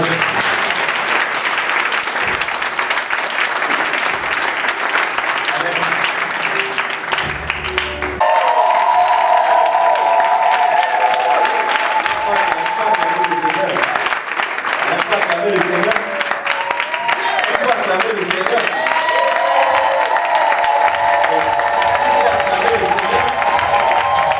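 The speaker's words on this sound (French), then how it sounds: "Est-ce qu'on peut acclamer le Seigneur?" A church congregation bursts into sustained applause and cheering for the Lord, a dense, loud wall of clapping and voices that swells and carries on throughout, with music and singing rising within it partway through.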